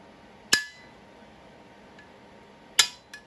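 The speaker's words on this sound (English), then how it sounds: "And then get your hammer" Hammer striking a socket to press a fork shock bushing into a Razor dirt bike, two sharp metallic clinks a couple of seconds apart, each ringing briefly, with a faint tap between and after.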